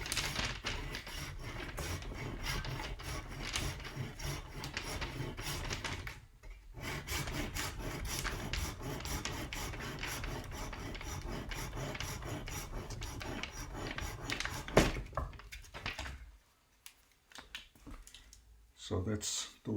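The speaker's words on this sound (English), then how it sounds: "I take my saw and I saw my plaster at the bottom to make a nice clean cut." A hand saw rasps through cast plaster at the base of a sculpture in steady back-and-forth strokes, close and continuous with a brief pause midway and scattered talk.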